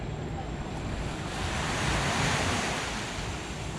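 Ocean surf rolls onto a palm-lined beach in Bocas del Toro, a steady roar of breaking waves with wind buffeting the microphone, swelling slightly midway and heard close without talk.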